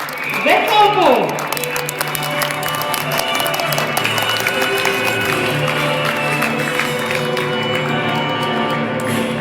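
Steady crowd applause at a horse show greets the winning rider on his horse, sustained clapping and cheering from the stands beneath a loud announcer's voice and background music.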